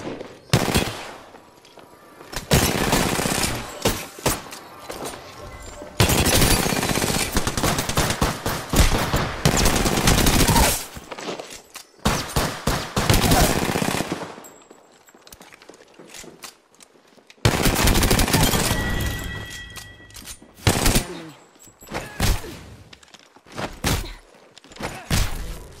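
Apex Legends gunfire comes in heavy automatic bursts, loud and close, rattling for several seconds at a time with quiet gaps between volleys and a few scattered single shots.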